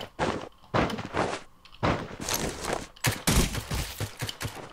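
Rapid, loud volleys of Thompson submachine gun fire in the Rules of Survival battle royale game, coming in several separate bursts with short gaps and no talking.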